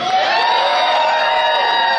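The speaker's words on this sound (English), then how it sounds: "We need to just give a big hand of applause for everybody that's here for tonight" A launch party crowd at a trans movement event in New York cheers and whoops loudly, a sustained wall of shouting voices with high-pitched yells held steady throughout.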